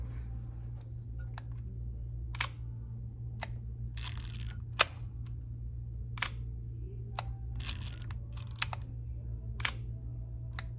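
Handling and firing of a Yashica Lynx 14E 35mm rangefinder camera's leaf shutter set to 1/30 second, a series of sharp, close mechanical clicks and clacks scattered irregularly over a low steady hum.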